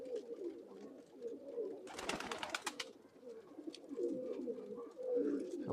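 Rare pigeons of an old Khulna bloodline coo in low, repeated throaty rolls close by, with a brief flutter of wingbeats in the middle and faint outdoor air behind.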